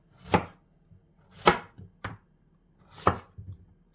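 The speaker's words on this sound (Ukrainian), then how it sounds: "А тепер нарізаємо кабачок на невеличкі шматочки." Knife chopping zucchini into small rounds on a cutting board: four sharp, close thuds with uneven gaps, a fifth lighter cut between them, and near silence in between.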